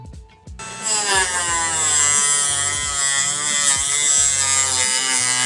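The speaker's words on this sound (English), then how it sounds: "I'm just showing you here how you can do it with a Dremel tool as well" A Dremel rotary tool cutting tubing for a glycol chilling conversion on a Fermzilla fermenter, a steady high-pitched whine starting abruptly after a brief pause and running continuously, close and loud.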